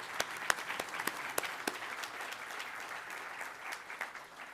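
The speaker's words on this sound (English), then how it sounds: "Can we please give the Minister a big round of applause?" Applause for a government minister at a school awards ceremony, a steady round of clapping from an audience with sharp individual claps standing out near the front, sustained for several seconds without talk.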